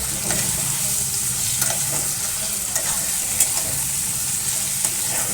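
Onion, tomato and hand-crushed ginger-garlic paste fry in a pan with a steady, loud sizzle, broken by light scraping and stirring knocks throughout.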